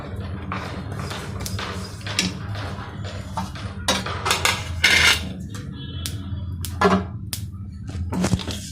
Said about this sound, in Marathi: आता तीळ भाजले चांगले त्याच थोडेसे बदाम थोडेसे रोस्ट करते